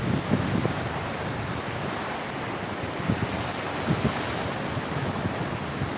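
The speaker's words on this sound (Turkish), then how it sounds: "Dalgaların sesi, deniz." Continuous rush of sea waves washing in, with gusty wind buffeting the microphone and a few soft surges rising above the steady roar.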